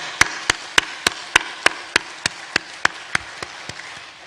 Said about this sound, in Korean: 하나님 앞에 감사와 영광의 박수 한번 힘차게 돌리겠습니다